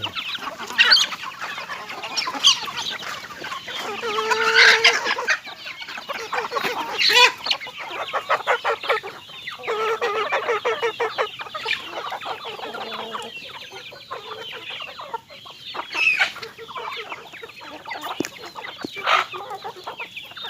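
Chickens, including bantams and chicks, cluck and chatter continuously at moderate distance on a home farm, with occasional louder squawks rising above the steady flock noise.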